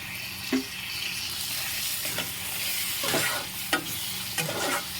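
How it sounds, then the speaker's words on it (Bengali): Sour yogurt stirred into frying masala with chilli in a pan, a continuous hiss and sizzle broken by several short scraping strokes of the spoon, close and moderately loud. "কিছুটা নাড়ছি।"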